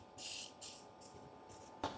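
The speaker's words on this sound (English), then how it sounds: "I'll spray WD-40 on it." A WD-40 aerosol can sprays onto a rusty machine frame in several short hissing bursts, each lasting a fraction of a second, followed by a small clack at the end.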